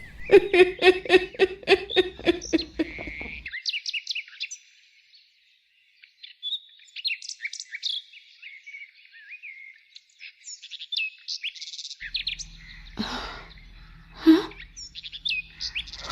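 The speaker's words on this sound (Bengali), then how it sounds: "সকালে সূর্য ওঠে, পাখির ডাক শোনা যায়," Birds chirp and tweet in quick bright morning calls, a busy chorus at first, then scattered songs against a quiet background.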